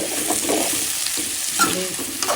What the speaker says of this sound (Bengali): আলু পেঁয়াজ টমেটো সব একসাথে ভেজে নেব